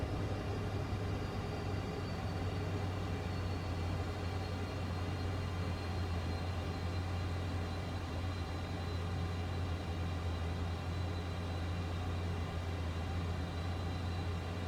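Simulated SR-71 Blackbird engines are throttled back during a descent in a flight simulator, giving a steady, unchanging low drone with a faint high whine, continuous and moderately quiet throughout.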